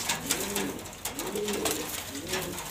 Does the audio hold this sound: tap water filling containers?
no